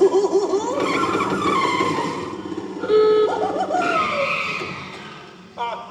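A cartoon taxi screeches its tires in a theatrical Muppet show sound effect, several loud, wavering squeals rising and falling over a few seconds, close and alone.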